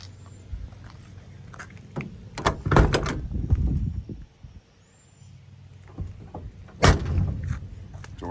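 Doors of a 1971 GMC 1500 pickup truck being shut, several solid thumps and latch clunks spread over a few seconds in a quiet setting.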